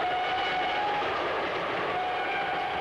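A night train to Penzance runs steadily out of London, a continuous rumbling rush on the rails with a faint high whine, even and unbroken throughout.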